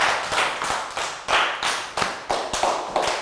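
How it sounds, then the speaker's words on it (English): Classroom of young students clapping for a classmate at a maths lesson, a few loose, uneven rounds of sharp claps and taps, fairly close and loud, with no talking. "Big round of applause for Prel"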